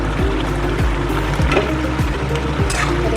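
Chicken pieces for chili chicken sizzle and fry in a pan with tomato and soy sauce, a steady loud sizzle broken by periodic stirring scrapes and soft clinks, with no talking.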